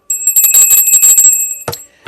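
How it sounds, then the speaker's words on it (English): A bicycle-style bell rings in a quick, loud, close flurry of bright metallic dings for about a second and a half, then stops, with no talking. "Let's ring that bell"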